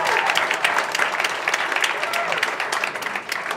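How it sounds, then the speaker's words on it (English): An audience at a 2016 celebration event gives a round of applause, continuous crowd clapping at a steady, even level from start to finish. "Let's give Ben a round of applause,"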